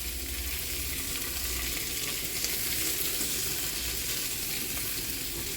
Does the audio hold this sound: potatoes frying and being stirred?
yes